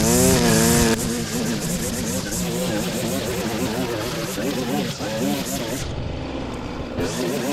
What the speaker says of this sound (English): I'll grab the mower and see if we can mulch it up a bit more